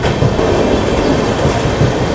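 The Sabari Express rolls past the Sattenapalli railway crossing, its wheels producing a loud, continuous rumble and rhythmic clatter over the rails.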